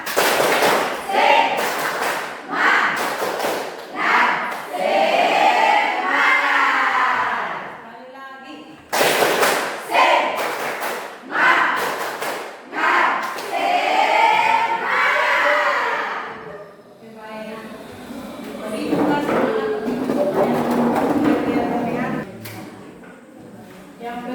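A standing group claps a rhythmic spirit clap in a classroom during a teacher's lesson, bursts of loud, patterned clapping with shouting voices, pausing briefly and starting again, then fading into looser clapping and chatter.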